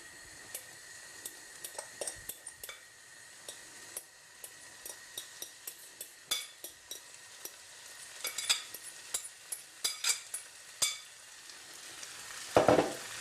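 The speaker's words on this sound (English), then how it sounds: "Give that a bit of a stir." Kedgeree of fish, rice and peas frying in a pan, with a soft sizzle under repeated scraping and clinking stirs of a utensil against the pan, close and intermittent.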